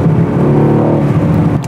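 A Mercedes C63 AMG V8 rumbles loudly and close while braking, its deep exhaust burbling steadily throughout with no voices.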